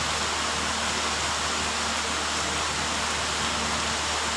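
Steady, dense rain pours down, a constant close hiss of falling water with no voices or breaks.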